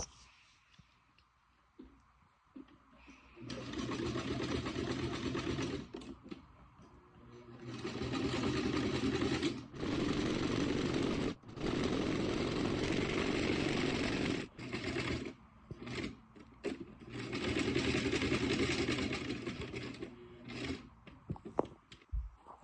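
Sewing machine running bursts of zigzag stitching as a fabric wing is sewn onto the body of a stuffed owl, several sustained whirring runs separated by short pauses and clicks, close and fairly loud.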